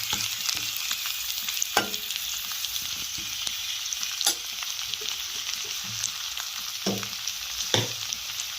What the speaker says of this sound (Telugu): ఇందులో కొంచెం తాలింపు దినుసులు వేసి ఫ్రై చేసుకోవాలి